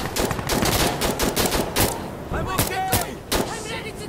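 Rapid gunfire in the tactical shooter Insurgency: Sandstorm: a burst of sharp, loud cracks in an irregular rhythm, close by and echoing, with faint voices underneath.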